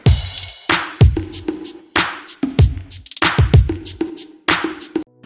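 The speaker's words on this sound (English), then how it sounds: "Then the kick." Kick drum punches through a looping beat alongside claps, snare backbeat and other percussion, its deep thumps landing several times over a few seconds, loud and close.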